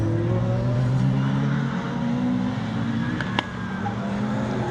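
Retro racing cars, including a Mark 1 Ford Escort, roar past on a rallycross circuit, engines droning and shifting pitch at mid distance with a short sharp crack near the end.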